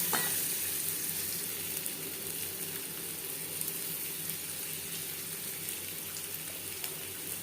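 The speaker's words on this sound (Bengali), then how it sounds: "লবণ হলুদ দিয়ে আলু ভেজে নেব" Boiled potato halves fry with salt and turmeric in a pan for a mutton curry, a steady close sizzle with faint stirring running unbroken throughout, no voices.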